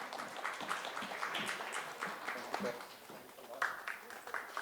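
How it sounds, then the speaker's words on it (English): Audience applause fills a hall at a corporate social responsibility conclave, a steady wash of many hands clapping for several seconds, with scattered louder claps and faint voices mixed in. "Can we have a round of applause, please?"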